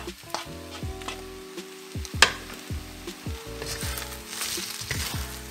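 Protein hitting a hot frying pan for keto low-carb pad thai, a bright crackling sizzle with a sharp burst as it lands, followed by steady frying and a few stirring scrapes.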